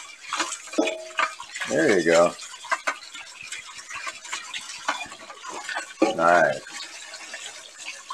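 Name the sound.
rinsing dishes with tap water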